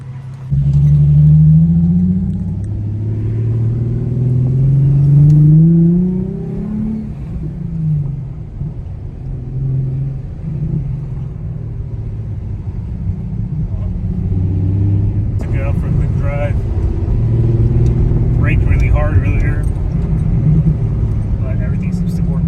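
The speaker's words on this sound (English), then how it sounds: "So quick test drive, let's go." A widebody Nissan 350Z engine rumbles and revs steadily on a test drive after a brake swap, with someone talking over the motor noise throughout.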